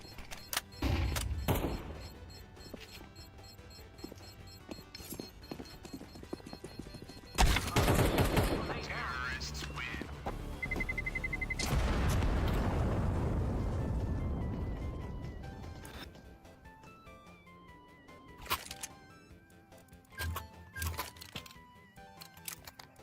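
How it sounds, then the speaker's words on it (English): A flashbang grenade goes off in a team shooter video game: a sudden loud burst, then a long roaring wash that slowly fades, amid scattered gunfire and clattering game effects. "Flashbang."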